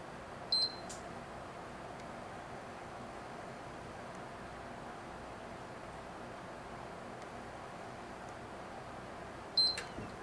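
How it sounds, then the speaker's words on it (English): A PS3 console gives two short electronic beeps during power-on, one near the start and one near the end, each brief and crisp above a steady low hiss. "Wait for the 2 beeps."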